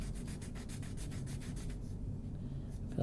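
A pencil rubs steadily back and forth over a wooden surface, giving a close, dry, rhythmic sanding-like rasp that eases off into quieter scraping near the end.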